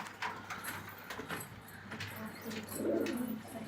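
Unpaired pigeons cooing in a home loft, low murmuring coos that swell toward the end, heard alone at a fairly quiet level with faint background knocks.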